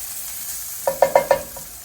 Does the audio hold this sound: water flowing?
no